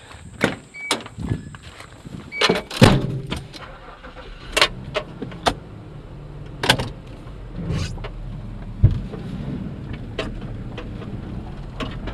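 A car setting off on a test drive after brake repair, with clicks and thumps of doors and switches, a brief electric window motor, then a low engine and road rumble building beneath scattered knocks.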